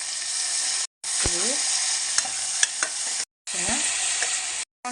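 Onions sauté in oil in a pan for a home-cooked palya, giving a loud, close, steady sizzle with occasional stirring scrapes, broken by a few short abrupt silences.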